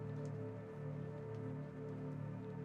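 Rain in the video game Dispatch falls as a steady, soft patter over a low humming game ambience. It stays quiet and continuous throughout, with no voices.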